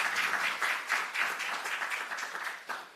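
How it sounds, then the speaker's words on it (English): An audience at a data protection training awards ceremony applauds the new data protection officers, a steady round of clapping from a seated crowd lasting a few seconds, moderately loud with no talking. "can we have a round of applause to congratulate these new data protection officers?"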